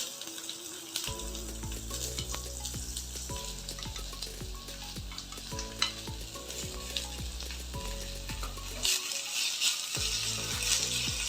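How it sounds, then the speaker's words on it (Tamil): Onions sizzle in hot oil with popping mustard seeds, part of a pearl millet idli and dosa recipe. The crackle is steady and close, with tonal background music underneath. "இதையும் கொஞ்சம் நல்லா வதக்கி விட்டுக்காங்க."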